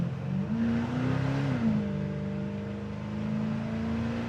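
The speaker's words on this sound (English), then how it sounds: "I love the sound of that fuel injection too" A 1962 Chevrolet Biscayne Custom's fuel-injected engine revs up and settles into a steady drone while driving, heard from inside the car.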